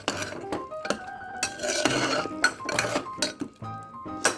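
Spices and tomato rice bath powder being stirred into tomato rice in a metal pot, with repeated clinks and scrapes of a spoon against the pot in an uneven rhythm, close and clear, with no talking.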